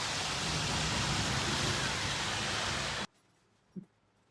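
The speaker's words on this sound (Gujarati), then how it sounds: "વરસાદ આવે છે, તમને બતાવું" Rain pours in the dark at night with a loud, steady hiss for about three seconds, then cuts off abruptly into near quiet broken by one soft thump.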